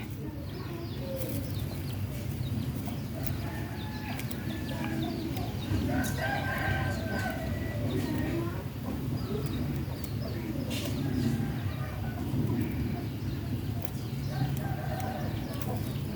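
Chickens cluck and chatter continuously nearby, with a rooster crowing partway through over a dense farmyard background.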